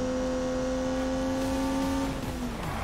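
A turbocharged 3-litre straight-six engine in a racing video game, holding a loud, steady high rev with a sustained droning tone that eases slightly near the end.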